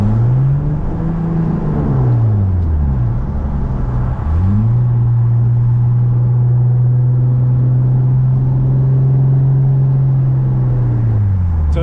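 An Infiniti G35 with a faulty TCM transmission drones loudly from inside the cabin. Engine pitch rises and falls twice, then holds a long, steady high note as the gearbox fails to shift up.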